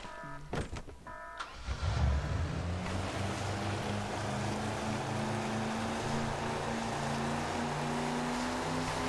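A boat in the video game Just Cause 2 starts up with a couple of sharp clicks, then its engine settles into a steady loud drone over rushing water, continuing without speech.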